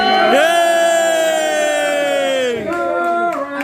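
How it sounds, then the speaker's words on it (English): Rugby supporters at the Premiership Women's Rugby final between Saracens and Gloucester Hartpury at StoneX Stadium raise a loud, close cheer for Saracens, a sustained collective whoop and shout that swells then dips near the end. "Can we have a little cheer?"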